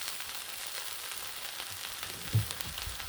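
Canadian bacon sizzling on a hot griddle, a faint, steady frying crackle with a small pop or bump partway through, no talk.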